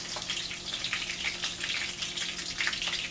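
Breaded food fries in a pan with a steady, fairly close sizzle and crackle of hot oil that rises and falls slightly but never stops, with no voices.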